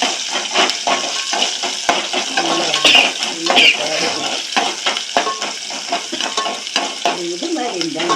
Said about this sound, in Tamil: இது வெந்தயம் சோம்பு போட்டு தாளிக்கணும்.